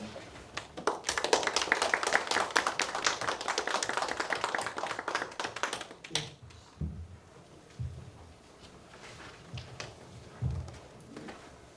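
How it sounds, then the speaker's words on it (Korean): An audience at a traditional Korean music class at a literary hall applauds to welcome performers. The clapping is dense for about five seconds, then stops and gives way to scattered knocks and shuffling. "나오실 때 박수로 맞아주시기 바랍니다"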